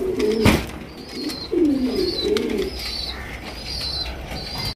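White Danish pigeons coo in low, throaty bursts, with a sharp flurry of wing flaps near the start; the coos repeat close by over a faint background hum.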